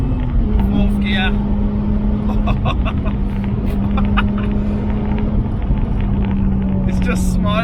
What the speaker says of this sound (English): Foot's flat, third gear, fourth gear.